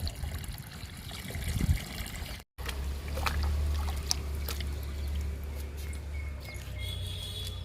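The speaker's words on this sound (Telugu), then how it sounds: "ఇప్పుడు పూల మొక్కలకి ఇచ్చేద్దాము లిక్విడ్." Homemade liquid fertilizer poured onto flower plants, a steady trickling and splashing of liquid, close and soft, with a brief break partway through and no talking.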